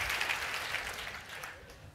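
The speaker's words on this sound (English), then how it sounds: "Give yourselves a round of applause because it worked." Audience members at an education conference talk give themselves a round of applause, a short burst of fairly quiet clapping that fades slightly toward the end.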